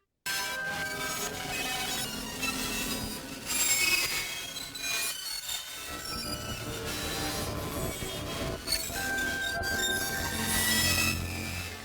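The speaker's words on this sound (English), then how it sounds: "made a very strong distortion, like a digital distortion of the same sound file" A glitch sound file under strong digital distortion: harsh, dense digital noise grinds and screeches continuously, with shrill squealing tones and crackling textures shifting throughout.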